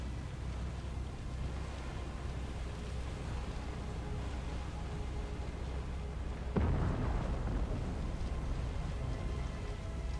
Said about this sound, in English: There's some explosions going